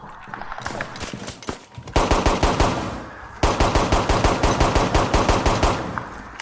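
Automatic gunfire in the shooter game Rainbow Six Siege rattles out in two long rapid bursts of evenly spaced shots, loud and close, after a stretch of lighter, muffled game noise.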